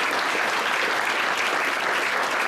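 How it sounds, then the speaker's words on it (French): Loud, dense applause from a crowd at a Canadian memorial ceremony in Tigelot marking its 62nd anniversary, honouring families of the aircraft crew, sustained and close without any talk. "J'aimerais les remercier en les applaudissant bien fort tous."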